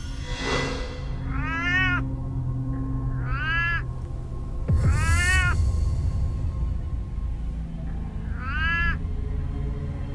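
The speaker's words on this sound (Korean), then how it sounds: "아, 고양이 소린가?" A cat meows in four drawn-out, wavering cries spaced a few seconds apart, fairly close and clear over a low steady background hum, with no talking.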